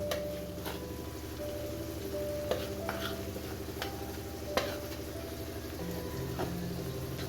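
Slit green chilies with turmeric and Kashmiri chili powder frying in oil in a pan for a pomfret fish dish, a low steady sizzle broken by a few light spoon taps and stirs.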